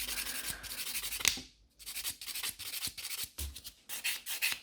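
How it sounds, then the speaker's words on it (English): A 100 grit buffer rubs back and forth across an acrylic nail in short, close, dry strokes with brief pauses between passes, and nobody speaks. "So I will take a buffer, and the buffer is 100 grit."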